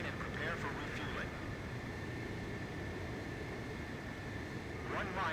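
A fighter jet in Ace Combat 5 flies toward a refueling aircraft, heard as a steady broadband engine roar with a faint whine, continuous and fairly quiet, with brief bursts of radio chatter at the start and end.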